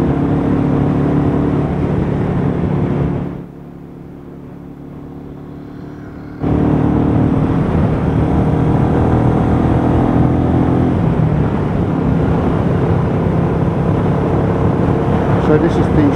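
Royal Enfield Meteor 350 motorcycle ridden along a sunny winter country road, a steady close engine hum with wind rush, easing briefly before picking up again.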